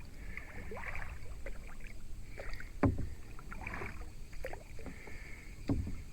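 Kayak or canoe paddle strokes dipping into open water against the wind, each splash and drip recurring at a slow rhythm, close and fairly quiet over light wind noise.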